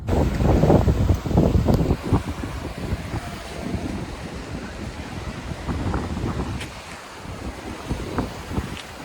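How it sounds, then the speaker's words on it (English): Surf and gusting wind at Narragansett Beach, Rhode Island, with waves washing in continuously and wind buffeting the microphone, loud and close with no talking. "Narragansett Beach. That's what this is called, Narragansett Beach."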